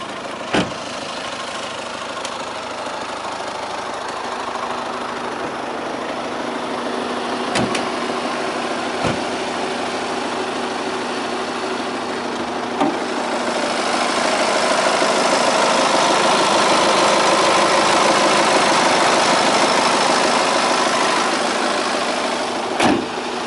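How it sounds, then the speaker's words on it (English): A Mini Cooper engine idles steadily throughout with a smooth, even mid-range hum, growing slightly louder and fuller toward the second half, with a few faint clicks and no talking. "So let's keep the engine running."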